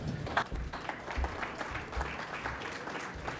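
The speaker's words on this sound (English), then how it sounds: "round of applause, please." An audience at a venture capital panel at the Plug & Play Expo applauds steadily, a dense patter of many hands clapping throughout, fairly close and without talk.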